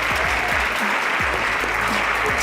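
Audience applauding at a high school quiz show, dense steady clapping from a crowd filling the whole stretch, with faint voices underneath.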